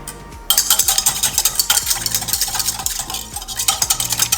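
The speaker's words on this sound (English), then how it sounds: "I'm gonna whisk that together." A whisk beats yeast with other ingredients in a bowl, making steady rapid rhythmic clicking and scraping that begins abruptly and keeps going, loud and close, with no voices.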